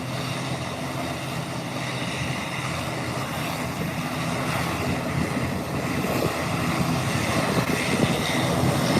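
A steady roar from an ATR turboprop airliner's engines fills the air at Howard Hamilton International Airport after pushback. The rumble is broad and continuous and swells slightly toward the end, with wind noise and no talk.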